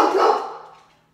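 A dog gives one loud, short excited bark close by, fading quickly into silence.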